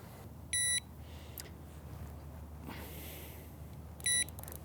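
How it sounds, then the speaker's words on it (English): Two short electronic beeps from Prologic carp fishing bite alarms, one near the start and one near the end, sounding over steady outdoor background noise at a lakeside fishing venue. "Leaving them beeping. Now these are actually new alarms from Prologic."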